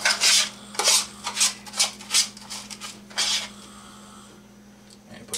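Panko breadcrumbs sprinkled over a cheesy tuna bake, a series of soft rhythmic shaking rustles in quick bursts that taper off into quiet, with a faint steady hum beneath.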